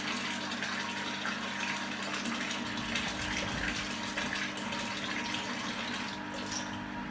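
Sparge water pours steadily during a pumpkin beer brew day, an even rushing, gushing stream of liquid lasting throughout at moderate level, with no voices.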